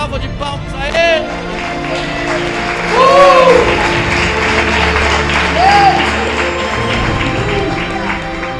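A church congregation claps in worship of God, with thick, sustained applause mixed with cheers and voices, and a few whoops and shouts rising above the crowd.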